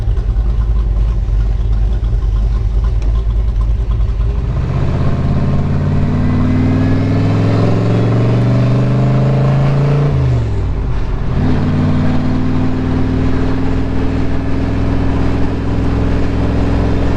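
A Factory Five Shelby Cobra replica engine idles, then revs and pulls away, pitch climbing through a gear before dipping and rising again as it drives off.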